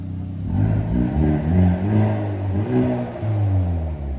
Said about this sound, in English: change the sound of the exhaust. Let's have a listen.